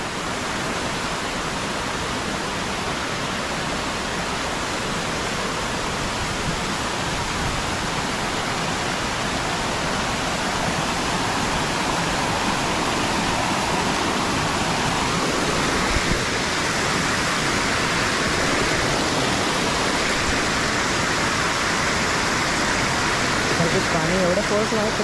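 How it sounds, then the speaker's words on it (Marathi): Water spills steadily over a small dam at normal force, a constant broad rushing roar that stays loud and even throughout, with voices in the background at times. "पाणी एवढं फोर्स नाही तर नॉर्मलच आहे"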